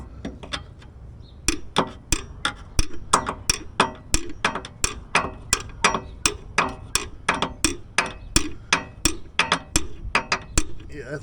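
Repeated sharp metallic hammer blows ring out while working under a Toyota Land Cruiser FJ60, about two strikes per second after a quiet start, close and loud.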